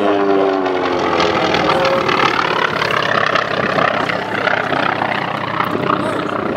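A 350-horsepower engine on an aerobatic biplane drones loud and steady during an airshow climb and loop, with a constant propeller roar and a faint shifting pitch under a public-address commentator's voice.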